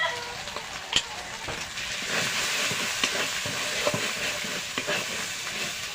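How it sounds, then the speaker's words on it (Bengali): Chilli, cumin and coriander powder masala fried and stirred in a pan for chicken biryani, with a continuous close sizzle broken by scattered clicks and scrapes of the spoon. "আমি এটা ভালো করে কষিয়ে নেব"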